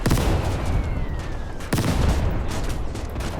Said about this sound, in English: Another artillery.